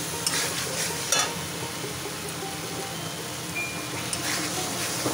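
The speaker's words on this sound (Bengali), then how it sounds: "মশলাটাকে একটু কষিয়ে নিয়েছি" Spice paste sizzling in a pan while being stirred, a steady moderate crackle with a few sharper scraping clicks.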